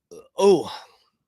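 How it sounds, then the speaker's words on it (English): A short, voiced belch-like gulp from close by, a brief throaty lead-in followed by a louder, resonant burp that fades out. "I keep burping"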